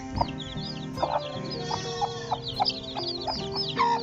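Aseel chickens and chicks cluck and chirp repeatedly over a steady background hum, several birds calling close by in a busy, irregular rhythm.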